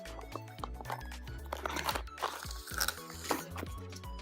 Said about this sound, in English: Let me just get this tape off.